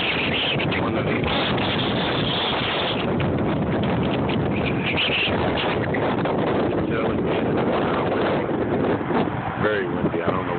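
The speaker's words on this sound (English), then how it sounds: "Very windy. I don't know what these gusts are," Strong gusty wind outdoors in Woodside, Queens batters the microphone with a continuous loud roar and rising gusts, with a voice talking underneath at times.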